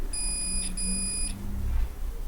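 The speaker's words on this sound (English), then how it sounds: "Even here it's beeping because I believe this is ground." A multimeter sounds a continuity beep while probing a shorted motherboard of an Asus VivoBook X543M laptop: two short high-pitched tones close together, followed by faint background noise.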